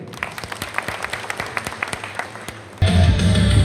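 At an outdoor project day event in Purbachal, a crowd claps in a quick, fairly even rhythm, then the sound suddenly swells into a loud, dense wash of applause.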